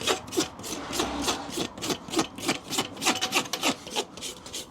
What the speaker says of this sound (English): Run our rasp over the top of the nail heads and the excess hoof.